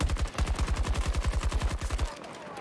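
Automatic gunfire from Battlefield 2042 on the Exposure map, played on Xbox Series X: a loud, tightly spaced burst of rapid shots in a steady rhythm lasting about two seconds, then cutting off abruptly.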